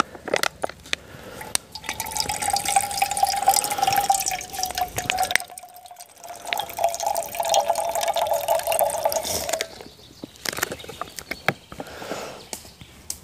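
Water pushed by pressure through a Sawyer Micro filter straw, a close steady trickle and drip into a container, briefly pausing before the flow resumes, then tapering to scattered drops.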